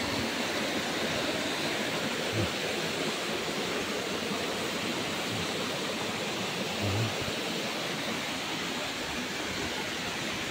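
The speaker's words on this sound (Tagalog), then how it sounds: "hindi gano'ng kalakas yung tubig." Flowing river water at Kulon Sabak in Matanao, Davao del Sur, a steady, dense rush of moderate current that continues without a break and carries no talking over it.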